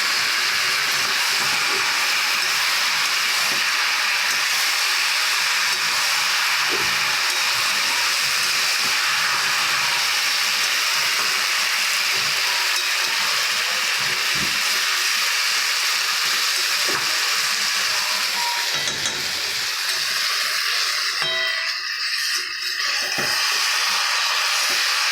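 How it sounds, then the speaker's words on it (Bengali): Dried and green chillies tempering in hot oil for a vegetarian chapor ghonto with chichinge, a loud, continuous broadband hiss and sizzle that holds steady for a long stretch and thins slightly toward the end. "শুকনো লঙ্কা ফোড়ন দিয়ে দিয়েছি"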